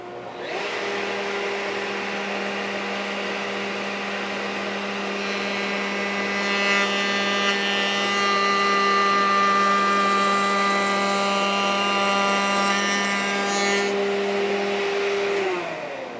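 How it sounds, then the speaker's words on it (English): A dust collector runs for a router table in a woodworking shop, giving a steady, loud motor hum with a sustained whine that lasts throughout. "We'll turn the dust collector on."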